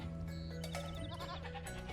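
Goats in a video game give a short burst of layered bleats over a steady droning game soundscape, moderately loud and brief.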